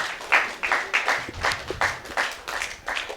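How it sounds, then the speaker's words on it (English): Scattered audience applause at a sports and education event, a modest crowd clapping in uneven waves with distinct individual claps, moderately close and fading slightly between bursts. "Could you give TDC another round of applause, please?"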